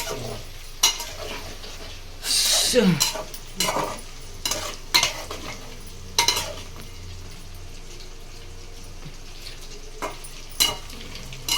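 Chicken mixed in a pan, with repeated scraping and clinking of a spoon against the metal over a low background sizzle, close and intermittent, no talking.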